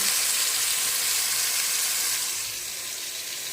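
Ground ginger, garlic and onion paste sizzles in a hot pan, a steady close hiss of frying that eases slightly toward the end, with no talking.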